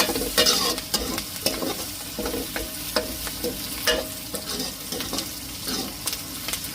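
Sautéing onions and green chillies in a pan: a soft continuous sizzle broken by regular scraping stirs of a spatula, close and moderately loud, with no talking.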